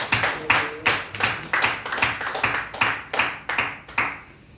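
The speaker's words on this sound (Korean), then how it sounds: "존귀하신 살아계신 우리 하나님 앞에 영광의 박수 올려드리겠습니다" A church congregation at a New Year service claps in unison, a regular beat of sharp, strong claps, about two per second, ringing through the room before trailing off.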